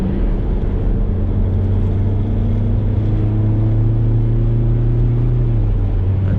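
A 2005 Audi A4 Avant estate accelerates from 40 to 60 mph in S mode at part throttle, a loud, steady in-cabin engine drone rising smoothly in pitch over road rumble, with no talking.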